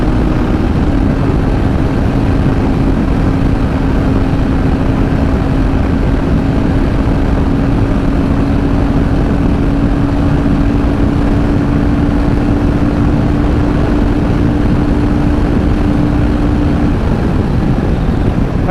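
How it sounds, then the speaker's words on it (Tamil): Loud, continuous wind blast roars past a rider on a Royal Enfield Guerrilla 450 motorcycle at high speed, with a faint steady engine drone beneath the rushing air. "செம்ம விண்ட் பிளாஸ்ட் கைஸ்."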